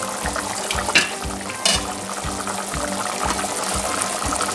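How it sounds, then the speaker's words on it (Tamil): Chicken pieces frying in oil over medium-low heat give a steady, dense crackle that runs throughout, with a few brief louder pops of stirring or turning. No one speaks. "பாருங்க, மீடியம் லோவிலேயே வச்சு பொரிக்கிறேன்."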